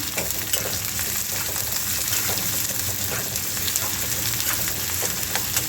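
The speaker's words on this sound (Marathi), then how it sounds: "इथे मी कांदा घालून घेते आणि यालाही छान परतून घ्यायचं आहे" Chopped onion sautéing in a pan for a purslane vegetable dish gives off a loud, steady sizzle and crackle that runs unbroken throughout, close up with no voices.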